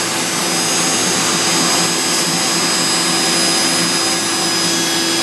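The spindle of a Mazak Integrex 200 IIIST machining center spins at 10,000 RPM, making a steady, loud, broadband whirring hiss with no pauses and no talk.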